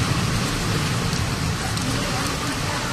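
Heavy rain pours down during a storm as a dense, constant roar of hiss close by, unbroken and with no voices.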